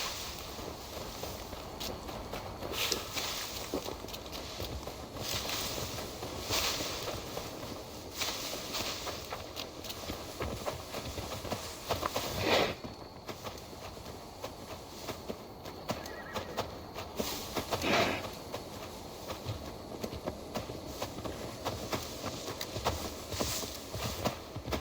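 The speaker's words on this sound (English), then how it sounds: "Now to deliver Magni his horse." Hooves clop in an irregular rhythm over a constant outdoor ambience in the game Assassin's Creed Valhalla, with a horse whinnying now and then.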